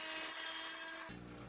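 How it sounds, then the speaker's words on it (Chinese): A tabletop wet saw slices through a floor tile during a bathroom shower tiling job, a steady loud grinding whine that drops abruptly to a lower idle hum as the cut ends. "切割这种地砖，我用的就是台式水锯"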